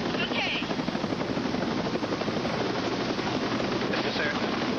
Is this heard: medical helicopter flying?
yes